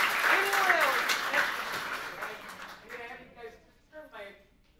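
Applause for a donor at a 10th anniversary charity gala, a burst of many hands clapping that fades out over a few seconds, with a speaking voice over the start and the end.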